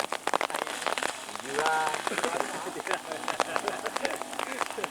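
Rain patters on umbrellas with dense, close drumming taps, and agitated voices talk over it.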